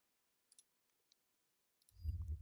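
A computer mouse gives a few faint, sharp clicks at close range, followed by a louder low rumble near the end.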